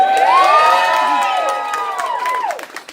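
A stand-up comedy audience cheers and screams loudly with high-pitched shouts and whoops, holding strong for a couple of seconds before tapering off.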